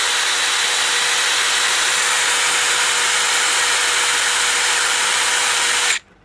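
DeWalt DCF850 impact driver spinning free at full speed, a loud, steady high-pitched whine held for about six seconds and then cut off abruptly, with no voices.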